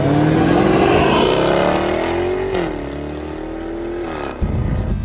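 A supercharged 5-liter V8 in a 2024 Jaguar F-Type revs loudly up close, with a deep roar that climbs in pitch, dips, then rises again before easing off, with no voices over it.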